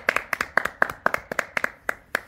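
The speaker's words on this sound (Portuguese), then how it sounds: "uma salva de palmas pra essa família maravilhosa" A small group clapping for a family, sharp distinct handclaps in a brisk, slightly uneven rhythm, close by and clear, about a dozen claps in a short burst with no talking.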